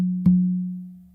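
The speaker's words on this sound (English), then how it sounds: "2 opens on that first tumbao to your non-dominant side" Two open tones are struck on a conga with the non-dominant hand in quick succession, each a round, pitched drum note. The second note rings on, sustained and clear, before fading out alone.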